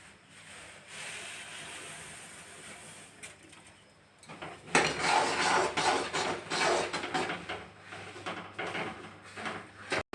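Sesame seeds tipped into hot jaggery syrup in a pan for til chikki, a burst of sizzling and scraping that starts about midway and stays loud and busy to the end, after a quieter simmering stretch.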